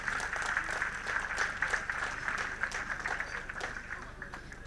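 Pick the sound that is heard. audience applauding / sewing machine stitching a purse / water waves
audience applauding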